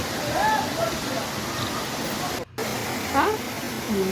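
Mountain water flows steadily at a hillside bathing spot on the temple route at Ahobilam, a continuous rushing wash under scattered voices of pilgrims, briefly cut out midway.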